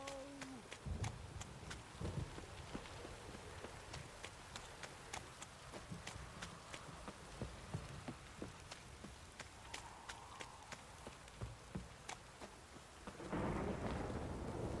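Rain and thunder in the video game Witcher 3, a constant patter of rain with repeated crackling thunder and a deeper rumbling swell at the end, with no talk.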